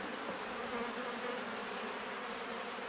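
Honey bees buzzing at an opened hive make a dense, steady, even hum, fairly quiet, with no voices over it.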